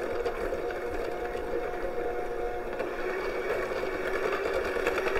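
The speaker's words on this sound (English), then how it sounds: "let's take our electric hand mixer, and we're just going to mix these ingredients together" Electric hand mixer beating cookie dough ingredients in a bowl, a steady close motor whir running continuously at an even level.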